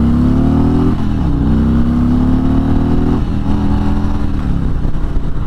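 Harley-Davidson Road Glide motorcycle pulling away in first gear: a loud, close, deep engine roar that climbs in pitch with each surge of throttle, briefly dipping and rising again over a few seconds.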